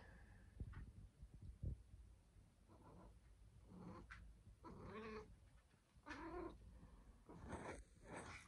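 A cat meows and yowls repeatedly, drawn-out plaintive cries close by, with faint shuffling noises between them.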